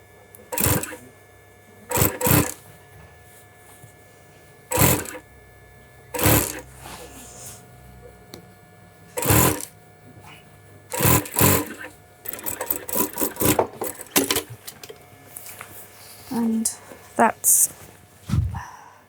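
In a London bespoke shirt workshop, a sewing machine stitches a shirt collar in short separate bursts, then quicker clustered runs, with a person talking between them.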